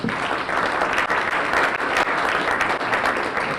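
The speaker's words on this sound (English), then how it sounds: "I'd like to give you a round of applause for your dedication." Warm, steady applause from a room of attendees at a retiree breakfast, many hands clapping together at a close, even level with no speech.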